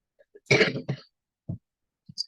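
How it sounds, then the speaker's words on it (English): A single harsh cough up close, followed by a few small throat sounds and breaths in an otherwise quiet room. "Sorry, I have a cough today."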